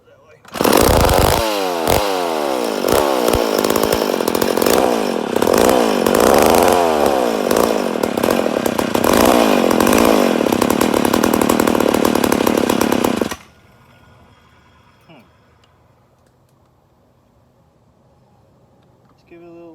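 A rebuilt McCulloch Super Pro 80 chainsaw fires up on its first start and runs loud and close, its two-stroke engine revving up and down for about twelve seconds before abruptly cutting out to quiet.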